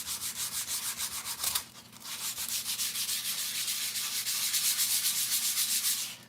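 Sandpaper rubs back and forth over the rough wood of a guitar body in a steady rhythmic rasp of repeated strokes, close and moderately loud, with a short pause before resuming, no talk.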